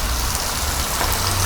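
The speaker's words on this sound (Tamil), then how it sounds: "வெளியே மழை பெய்யறதுக்கு அதுக்கும் தாறுமாறாக இருக்குது" Rain falls steadily outdoors during a fishing outing, a dense, even hiss of drops that is fairly loud and close, with no talking.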